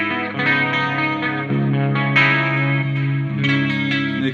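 Electric guitar played on the neck pickup through a Soldano X88 preamp's clean 80s blend setting, with direct signal mixed in and chorus-like shimmer; sustained chords ring out steadily and alone, changing a few times over several seconds.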